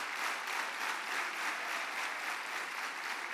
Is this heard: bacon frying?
no